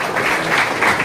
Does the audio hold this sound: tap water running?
no